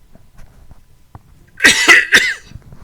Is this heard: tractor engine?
no